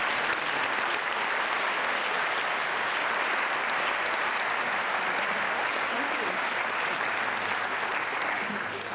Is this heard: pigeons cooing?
no